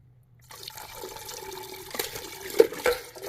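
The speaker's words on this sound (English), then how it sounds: "Next, you add all of your water." Water poured into a bowl of yogurt while making traditional lassi, a close, moderately loud liquid pour starting after a brief silence and running steadily with splashy bursts near the end.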